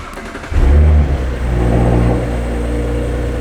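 A 2018-2025 B9 Audi S5 with an upgraded engine air intake fires up with a loud, close roar and a brief rev, then falls back to a steady rumbling idle.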